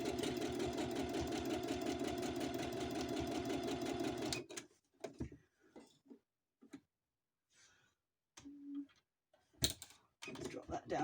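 A sewing machine runs steadily for about four seconds while stitching a tote bag handle, its rhythmic mechanical whir close and loud. Then it stops and brief handling noises and talk follow.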